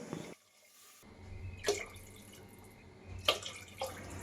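Short splashes of water pouring and trickling into a vessel, a few bursts close by with quiet pauses between them.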